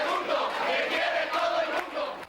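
Large crowd at a weekly papal audience at the Vatican cheering and shouting for Pope John Paul II, a dense continuous roar of many voices from a distance.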